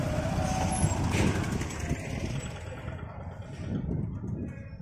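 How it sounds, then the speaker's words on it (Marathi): A truck rolls into an onion and pomegranate market shed, its engine rumbling loudly and fairly close, with a short air-brake style hiss partway through and ambient market noise behind. "एक गाडी आली आता."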